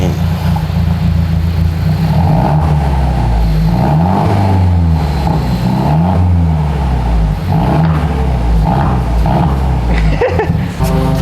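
A Mercedes-Benz E300 coupe with a modified exhaust revs loudly and close, its engine note rising and falling in several repeated sweeps over a steady throaty drone.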